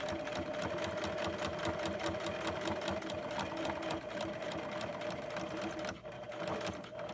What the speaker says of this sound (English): So I will be doing a little top stitch on this